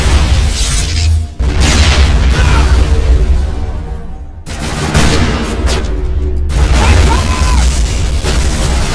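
Explosions and combat in the video game Mass Effect boom loudly in dense, rumbling bursts, with heavy blasts, debris and gunfire that dip briefly before the noise surges again.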